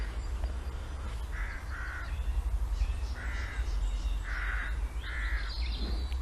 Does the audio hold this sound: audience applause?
no